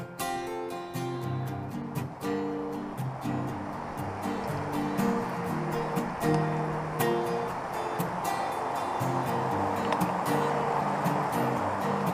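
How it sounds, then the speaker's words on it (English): Creek water rushes and splashes steadily at a rocky backcountry creek crossing near Lake of the Falls in David Thompson Country, a continuous near broadband wash with faint tonal hum and clicks underneath. "Forward to this creek crossing."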